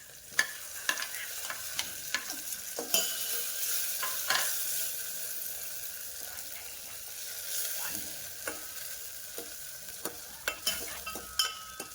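Tomatoes cook quietly in a pan for Maggi, with a soft sizzle under repeated sharp spatula scrapes and clinks against the pan throughout.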